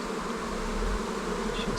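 A colony of honeybees at the hive hums in a continuous, close, swarming drone, a thick buzz from many wings with no voices over it.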